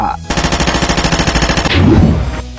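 A weapon fires a rapid burst of evenly spaced shots, loud and close, like machine-gun fire, ending in a louder blast.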